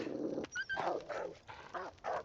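A wolf in a video game whimpers and yips in several short bursts, close and fairly quiet, with brief gaps between them.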